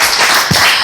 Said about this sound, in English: I can't just stop clapping.